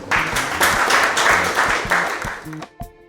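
Applause at a LONACI reception honouring the COMICI committee and the Miss Côte d'Ivoire 2021 trio, a few seconds of steady crowd clapping that thins near the end, with a voice partly over it.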